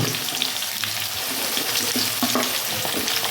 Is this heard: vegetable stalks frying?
yes